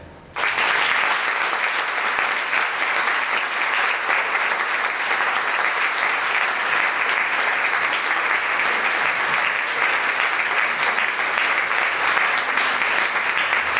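Sustained, dense applause from a large crowd at an honorary doctorate ceremony, steady and loud throughout with no pauses.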